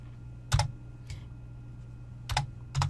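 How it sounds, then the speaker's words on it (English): Short bursts of typing on a computer keyboard, a few quick clustered keystrokes separated by pauses, close and clear over a low steady hum. "Helps if you actually type what you're saying."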